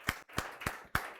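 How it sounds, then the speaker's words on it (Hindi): Hands clap for a candidate in a BPSC test-series classroom: five sharp, evenly spaced claps, fairly close and fairly few, as if from a small group, with no speech over them. "जोरदार ताली के साथ उनके नाम पर ताली बजाएंगे"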